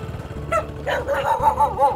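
Several dogs bark and yip along a narrow rural village lane in the Long An countryside, with sharp overlapping calls that grow busier and nearer partway through.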